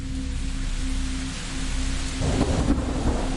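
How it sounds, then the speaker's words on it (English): A thunderstorm with heavy, steady rain hisses loudly throughout, and a rumble of thunder swells near the end, with no voices. "a heavy downpour began, drenching the landscape in a thick veil of rain"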